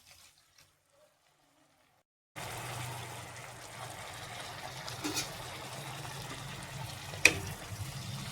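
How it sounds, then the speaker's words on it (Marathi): Half a glass of water is poured into a pan of bombil masala, bringing a soft sizzle and bubbling after a short silence, with a faint clink partway through. "थोडंसं पाणी टाकूया, अर्धा ग्लास"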